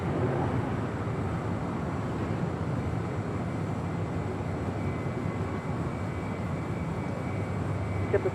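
A Boeing 767 airliner arriving at Los Angeles International Airport gives a broad, steady jet roar that holds at a constant level throughout, loud and sustained, with no voices.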